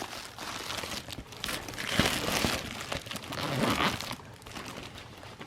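A fabric bag with zippers on both sides, which unfolds into a Sodor Railway playmat, is opened with several seconds of close crinkling and rustling handling, uneven and moderately quiet.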